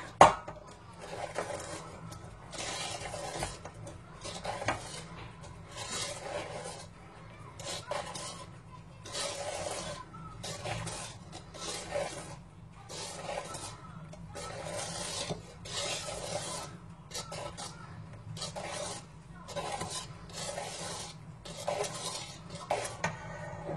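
Beaten egg whites being folded into a tiramisu-style cake batter, with a utensil scraping and tapping against the bowl in a steady repeated rhythm of soft strokes, close and moderately quiet.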